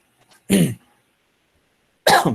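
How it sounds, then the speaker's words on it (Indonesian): Two loud, close coughs from a person during an online lecture, each a short harsh burst separated by about a second and a half of near silence. "Batuk."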